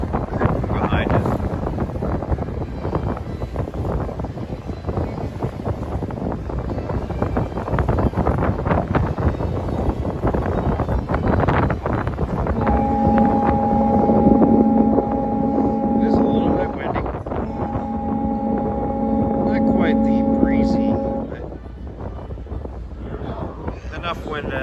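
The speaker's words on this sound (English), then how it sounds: "Enough wind to disturb your camera mounting." Steady, gusty wind buffets the microphone aboard a ferry crossing the water at Magic Kingdom, with the low rumble of the boat underneath and a few steady horn-like tones partway through.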